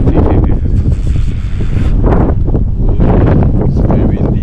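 Strong wind in snowy Shiretoko, Japan, buffeting the microphone in loud, rumbling gusts that rise and fall, close and continuous, with no clear voices.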